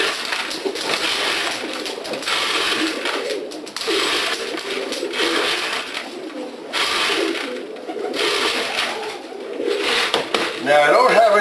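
Pigeons coo in a loft, soft repeated throaty calls rising and falling, with someone talking over them close by and occasional rustling and knocks.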